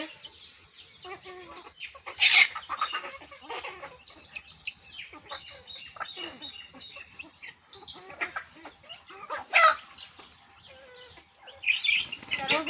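Chickens cluck and squawk repeatedly close by, with a few sharp louder calls rising above a busy flock chatter.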